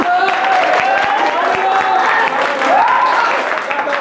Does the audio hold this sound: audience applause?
yes